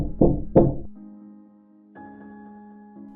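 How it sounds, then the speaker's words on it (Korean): Two sharp knocks land on a dormitory bedroom door at night, close and distinct, followed by a low sustained hum lingering in the quiet room. "누군가가 제 방문을 두드렸지요."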